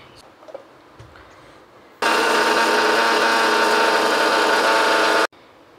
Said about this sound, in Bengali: এখন মশলাগুলো আগে শুকনো একটু পিষে নেব